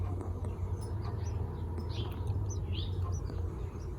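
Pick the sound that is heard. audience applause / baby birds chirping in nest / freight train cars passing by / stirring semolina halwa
baby birds chirping in nest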